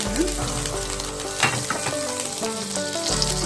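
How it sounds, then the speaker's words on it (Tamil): Butter sizzles in a frying pan as bread toast is being cooked, a steady crackling fry with scattered pops and light stirring or scraping. The sound is close and continuous, with no talk. "இப்போ pan ல பட்டர் சேர்த்துக்கலாம் பட்டர் வேணா பட்டர் சேர்த்துக்கோங்க இல்லனா"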